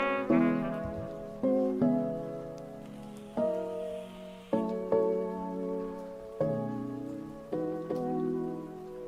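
A subtle rain sample sits far back in a chill jazzy beat, a soft hiss of falling drops under mellow keyboard chords that strike in a slow, regular pattern with no voices.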